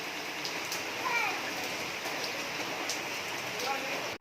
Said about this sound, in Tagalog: Grabe guys, ang ulan.